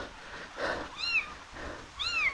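Abandoned kittens mewing close by, with two clear, high, thin meows about a second apart over faint background noise.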